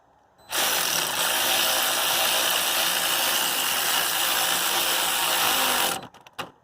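A loud, steady mechanical whir of a Harbor Freight power ratchet turning a bolt on a 2006 Chrysler 300C AWD, running continuously for several seconds, then stopping abruptly with a few short clicks.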